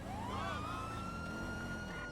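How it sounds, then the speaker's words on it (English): A police car siren in a GTA 5 video game wails steadily at close range, its rising and falling tone drawn out over a constant low rumble, with no voices present. "if we listen to the vanilla police siren right here, it just sounds super dated and flat"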